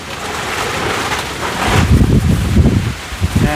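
Strong wind roars through a forest, a steady broadband rush that swells into louder, gusty surges in the second half, with no talking.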